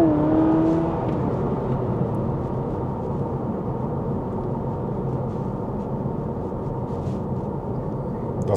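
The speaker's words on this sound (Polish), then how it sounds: "Przy ostrym przyspieszeniu oczywiście usłyszymy silnik spalinowy, ale dźwięk jest przyjemny" The 2.0-litre petrol engine of a 2024 Honda Civic e:HEV hybrid drones steadily from inside the cabin while accelerating in sport mode, a low continuous rumble with a brief rising whine at the start, moderately loud.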